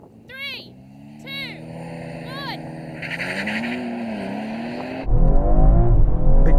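BMW 3 Series Touring cars, an Alpina against a diesel, launching in a drag race: engine revs rise and fall under excited talk, then a loud roaring surge of acceleration takes over near the end.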